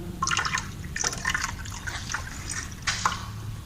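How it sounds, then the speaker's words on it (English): Water poured into a hydrostatic test apparatus in a lab, a steady splashing trickle with brief louder gurgles, close and moderately loud, no talking. "we have to pour more water"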